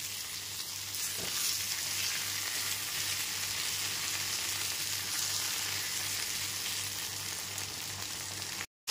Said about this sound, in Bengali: লবণটা দিয়েও খুব ভালো মতো মিশিয়ে বেগুনগুলোকে লাল করে ভেজে নেব।